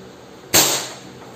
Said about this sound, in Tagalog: try na po natin i-check if gumagana po yung baril